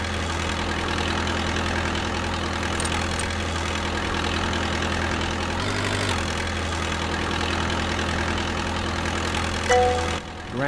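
A forklift engine idles in a virtual reality training simulator, a steady low hum that runs unchanged throughout, with a brief shift midway and a short clunk and tone near the end.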